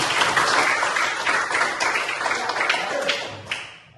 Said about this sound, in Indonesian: Tepuk tangan untuk Savitri